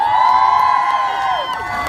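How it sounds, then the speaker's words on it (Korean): A crowd at a military base stage show cheers and shouts after a popping, krump and b-boy dance performance, a loud sustained roar of voices that swells and stays near for the whole stretch. "다시 한번 큰 박수 부탁드립니다"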